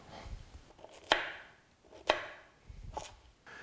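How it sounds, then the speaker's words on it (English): A knife cuts russet and sweet potatoes into cubes on a cutting board, giving three sharp chops about a second apart, close and fairly quiet, with faint handling noise between them. "I have an equal amount of russet potatoes and sweet potatoes or yams, and I'll cut them into cubes"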